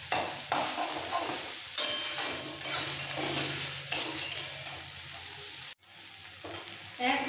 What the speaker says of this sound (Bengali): এবার একটু ভাজবো, নরম হওয়া পর্যন্ত একটু ভেজে নেব।